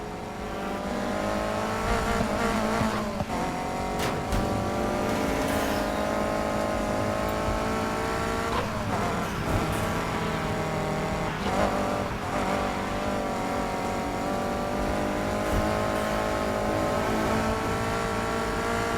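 Cars race from the start line in Need for Speed Heat, engines roaring loudly with rising and falling revs, gear shifts and brief tire squeals, a dense continuous close mix without speech.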